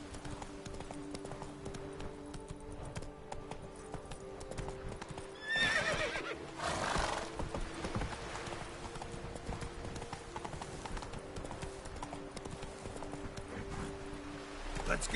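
Roach, a horse in The Witcher Wild Hunt, gallops with a steady close clip-clop of hooves, and a brief whinny and a louder burst of game sound come partway through, faint and alone.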